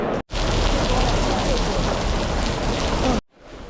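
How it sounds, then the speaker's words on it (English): Steady, dense rain pours outside the exhibition halls at a Shanghai wine expo, a loud continuous hiss that cuts off abruptly near the end. "we're going to run between the halls again, even though it's raining"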